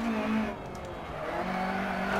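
A Fiat rally car in the Dirt Rally video game, racing a German stage from the 1970s era, hums with a steady engine drone and broadband road noise at even loudness.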